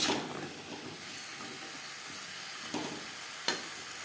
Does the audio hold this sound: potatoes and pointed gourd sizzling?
yes